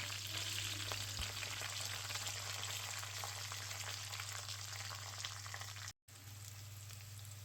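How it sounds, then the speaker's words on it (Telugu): Onions, curry leaves and seasoning seeds frying in hot oil make a steady, close, even sizzle that runs without a break and drops out for a moment near the end. No one speaks. "అవి ఫ్రై అయిన తర్వాత కొంచెం కరివేపాకు అండ్ అలాగే కట్ చేసుకున్నటువంటి ఆనియన్స్ని కూడా మనం వేసుకొని ఫ్రై చేసుకోవాలి"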